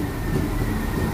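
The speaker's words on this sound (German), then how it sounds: "Ich höre das nur, dass es ein Dieselzug ist." A diesel train rumbles steadily close by, its broad low engine drone and rolling wheel noise filling the short stretch without a break.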